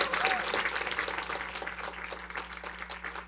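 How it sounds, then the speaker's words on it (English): Audience applause at a regular school board session, honouring an elementary school principal; dense, steady clapping from many hands, fairly near, gradually thinning slightly toward the end. "Let's give her another round of applause."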